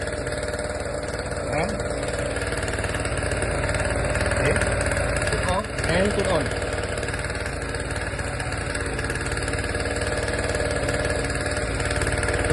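An engine running with no load, a steady idling hum with faint mechanical vibration that holds even throughout, with a brief louder knock partway through.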